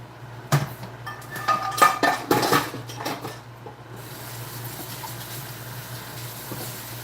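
Dishes clatter and knock in a kitchen sink during rinsing, several sharp clinks and thuds in a cluster, then a steady hiss of running water continues alone.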